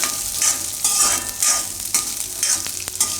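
Green chickpeas roast in hot oil with a steady sizzle, interrupted by several stirring scrapes and clinks of a utensil in the pan, close and fairly loud with no talking.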